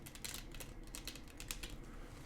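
Stiff new Goonies board game cards being shuffled lightly and close up, a steady papery riffle of soft crisp flicks for a couple of seconds with no talking.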